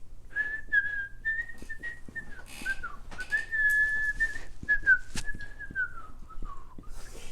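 A person whistles a wavering, melodic tune up close, clear and alone, with brief pauses between phrases.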